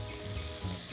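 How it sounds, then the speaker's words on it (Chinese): Leftover white shrimp pan-frying, a dense continuous sizzle with an even hiss and faint low crackle, close and steady throughout with no voices. "我们也就把它放下来，把它煎一下"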